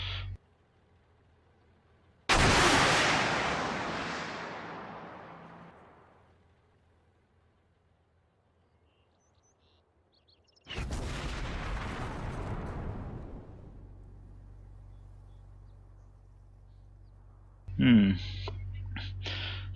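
Swingfire or SABRE missiles launched in a video game, two loud explosive blasts about eight seconds apart, each decaying into a rumbling roar, followed by a sharp burst near the end.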